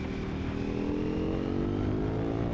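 A 2025 Triumph Scrambler 400 XC single-cylinder motorcycle engine drones steadily while riding, close and loud with a rough low pulsing tone and wind rush.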